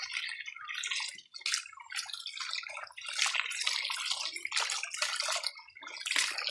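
Spring water runs and splashes steadily at an outdoor village cooking site, a close, bright gushing with uneven surges and drips, no voices over it.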